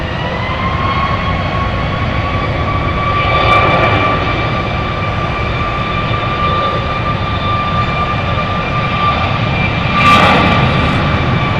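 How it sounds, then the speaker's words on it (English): Boeing 737 Max 8 jet taking off at Dallas Love Field, a loud sustained engine roar with high whining tones that swells and holds steadily throughout, heard from nearby without voices. "So that's the sound of the Max 8"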